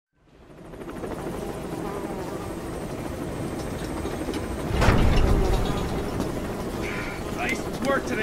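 A helicopter flies toward Mother Base in the video game Metal Gear Solid V: The Phantom Pain, its rotor drone steady and loud throughout. A swell of rushing noise comes midway, followed by lighter clicks and chirps.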